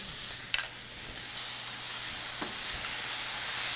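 Garlic stirred into charred edamame in a hot wok, a strong, steady hissing sizzle with a couple of faint scraping knocks near the start, close up and continuous, no one talking.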